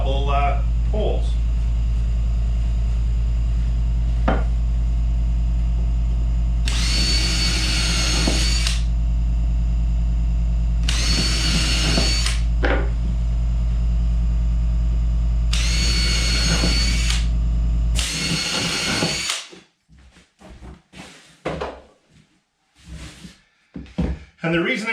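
A power drill whines in several sustained bursts, each a few seconds long, drilling holes in a wooden storage pallet over a steady low hum, followed by some softer knocks and handling noises.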